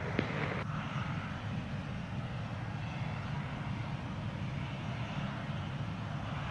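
A broad, steady roar of a jet airliner landing in rain at Montego Bay, Jamaica, continuous and fairly distant with rain and engine noise blended into one wash, with no voices.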